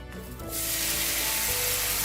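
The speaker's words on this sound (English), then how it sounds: "So we're going to start with a pan on the stove with some oil on it, to which I'm going to add" Pork added to an oiled pan on a stovetop sets off a loud, bright sizzle that bursts up after a quieter start and holds as a steady close crackle, with no talking.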